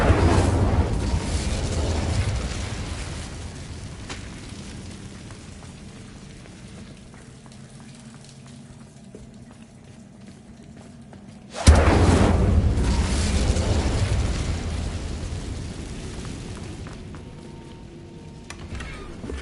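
Two loud whooshing fire bursts from the Incendio spell in the Hogwarts Legacy video game, the first at the start and the second about halfway through. Each flares up at once, then fades slowly into a low rumble.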